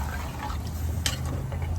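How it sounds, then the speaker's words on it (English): Water and chicken stock pour steadily into a bowl as a continuous liquid gush with a brief splash near the end, close and fairly loud. "Pour that in there."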